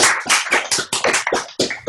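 Applause from webinar participants after being unmuted, a brief burst of overlapping claps and taps from several people, close and uneven, with no talking.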